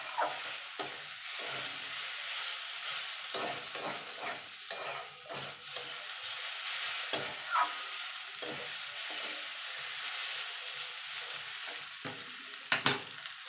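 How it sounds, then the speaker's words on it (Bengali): Semolina frying in a pan for halwa, a continuous dry hiss with repeated scraping strokes of a spoon stirring it, close and steady with no voices. "সুজিটা ভেজে দেখুন, সুজির কালারটা দেখুন কত সুন্দর এসছে।"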